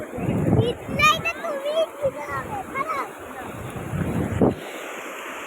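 Sea waves roll and break on Udaipur beach near Digha, a continuous surging wash with strong wind buffeting the microphone while people talk and a voice rises over the surf.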